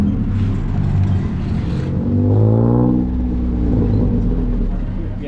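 A tuk-tuk engine drones while riding through Bangkok, with a close, steady rumble that swells into a revving rise in the middle before settling back.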